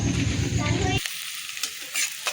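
Onions frying in a pan, a loud close sizzle for the first second that then drops away sharply to a quieter hiss with a few soft crackles.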